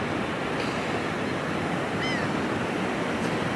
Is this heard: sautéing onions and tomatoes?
no